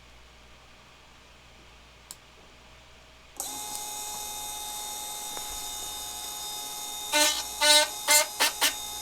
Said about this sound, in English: Motor 2 is working right now.